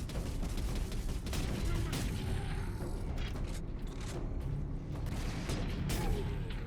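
Continuous turret gunfire from Warhammer 40k: Space Marine, a dense barrage of rapid shots and booms filling the whole stretch at a steady level, with game combat noise churning underneath.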